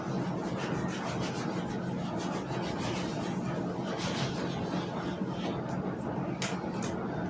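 Writing is scrubbed off a classroom board with steady, continuous rubbing strokes, a dry, rasping swish that carries on with little pause, with some talking mixed in.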